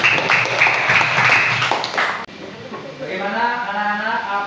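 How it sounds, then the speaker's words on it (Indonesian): A class of children clapping in a religious studies lesson, a burst of clapping that stops abruptly midway, followed by a voice speaking. "Oke, tepuk tangan semuanya"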